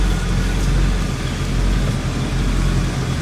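A 1991 Honda Civic DX with a newly replaced water pump runs steadily, a continuous low engine drone with road rumble as it drives off, moderately loud and with no talking over it.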